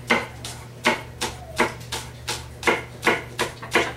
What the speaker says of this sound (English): I'm just gonna go ahead and give those a chop.